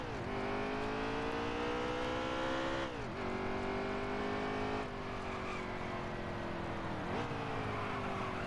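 Multiple NASCAR race car engines in the NASCAR Heat 3 video game drone loudly and continuously, with steady high engine tones dipping briefly as cars shift gears, holding a dense roar throughout.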